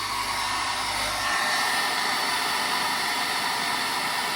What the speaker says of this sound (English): we can hit this with the hairdryer at a low rate as well